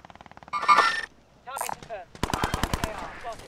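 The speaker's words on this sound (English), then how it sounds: "shooting them from the tower" Video game gunfire in Warzone: a rapid burst of faint shots, then loud automatic machine-gun bursts and a sharp run of close single shots in quick succession.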